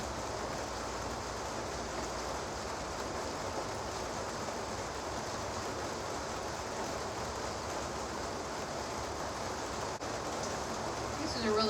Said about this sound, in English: now it's all raining